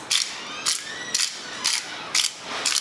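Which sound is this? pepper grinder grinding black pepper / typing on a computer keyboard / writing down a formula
pepper grinder grinding black pepper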